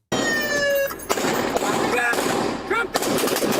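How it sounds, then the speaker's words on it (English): Several officers fire in a rapid burst during a shooting on played-back footage, sharp cracks following each other closely, with shouting voices mixed in. "They all start shooting."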